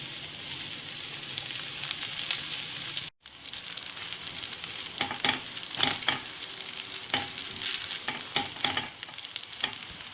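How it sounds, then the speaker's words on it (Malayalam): Veg hakka noodles stir-fried on high flame, a continuous loud sizzle with repeated scraping and tossing strokes, a brief cut in the sound early on, then busier clattering stirs toward the end. "ഹൈ ഫ്ലെയിമിൽ തന്നെയായിരിക്കണം നൂഡിൽസ് മിക്സ് ചെയ്തെടുക്കേണ്ടത്."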